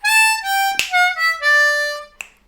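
A blues harmonica lick on a C harmonica: a short phrase of held reedy notes with a few quick breaks between them, loud and close, played alone.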